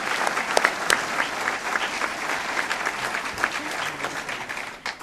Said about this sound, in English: One last round of applause for our 2014 inductees.